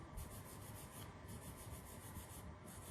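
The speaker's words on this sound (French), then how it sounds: "nous brossons avec une brosse métallique assez dure, de façon énergique" A stiff wire brush scrubs a fired silver clay jewelry piece vigorously, producing a quiet, even rasping with rapid strokes that continue throughout.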